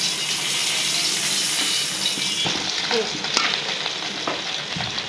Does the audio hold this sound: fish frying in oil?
yes